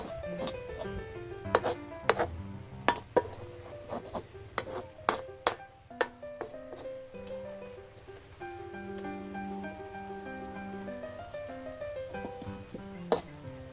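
Food being stir-fried in a pan for a spicy Thai curry-paste lizard dish, with a soft sizzle under repeated clinks and scrapes of a utensil against metal, and a voice talking intermittently.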